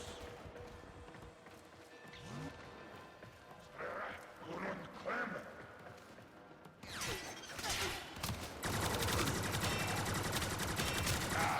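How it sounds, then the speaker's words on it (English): Plasma gun in a video game firing in rapid mechanical bursts, quiet at first and then growing into a loud, sustained stream of shots, with a voice talking over the earlier part. "this gun launches heated plasma at people"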